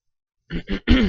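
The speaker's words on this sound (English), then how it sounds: "I've got a bit of a cough" Three quick throaty bursts in a row, harsh coughs or throat-clearing grunts, close and fairly loud after a moment of silence.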